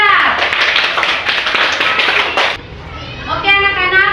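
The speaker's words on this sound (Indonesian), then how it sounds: "Berikan aplaus untuk kelompok 3" A classroom of students clapping together for a student group after a presentation, a dense burst of applause that stops abruptly, followed by a voice speaking.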